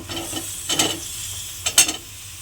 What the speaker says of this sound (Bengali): এইবারে আমি এর মধ্যে দেব ঝিঙে।